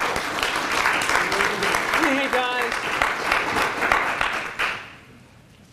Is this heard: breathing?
no